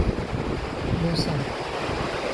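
Strong water rushes at Dongnae Lake in Busan, a broad steady roar mixed with wind buffeting the microphone, while a person speaks briefly over it.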